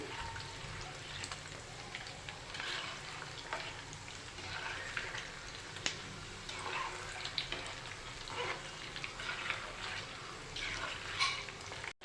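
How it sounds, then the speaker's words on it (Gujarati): Maggi noodle balls deep-frying in hot oil give a steady, close crackling sizzle with soft bubbling and occasional stirring clinks throughout. "તેવી રીતે આપણે બીજા બોલ્સને પણ તેલમાં મૂકી દઈશું હલાવી લઈશું બોલ્સને"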